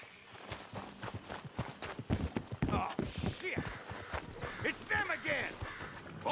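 Horses clip-clopping at a walk in the video game Red Dead Redemption 2, a run of hoof falls on the ground heard together with voices speaking.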